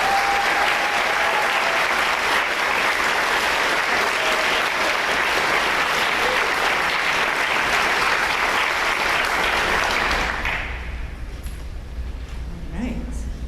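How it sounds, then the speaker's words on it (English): Sustained, dense applause from a graduation ceremony audience at LILA High School's awards event fills the hall steadily for about ten seconds, then tapers off into a quieter room. "Let's give our award winners and our generous scholarship donors one more round of applause."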